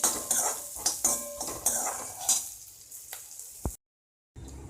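Onions and tomatoes sautéing in a pan for coriander chutney: repeated scraping and clinking spoon strokes over a soft sizzle, then a moment of silence before the stirring resumes.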